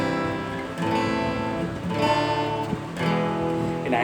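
An acoustic Spanish-style six-string guitar rings out with sustained strummed chords, warm and full, changing roughly every second, played up close with no voices.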